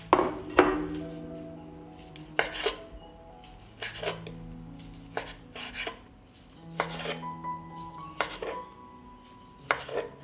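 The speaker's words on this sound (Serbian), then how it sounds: "iseći ću 3 kobasice" Sharp knife chops on a cutting board slicing three sausages, irregular close knocks in small bursts with ringing clinks between strokes.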